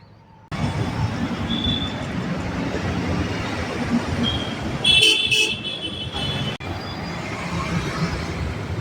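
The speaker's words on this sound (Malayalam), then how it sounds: "മെട്രോയുടെ പണി നടക്കുന്ന സ്ഥലത്ത് വാഹനങ്ങൾ കടന്നു പോകുന്ന, സുഗമമായി വാഹനങ്ങൾ കടന്നു പോകുന്ന ദൃശ്യം" Steady roar of road traffic rolling past a metro construction site, with a brief high beep or horn toot midway and vehicles continuing throughout.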